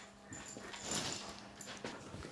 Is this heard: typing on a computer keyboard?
no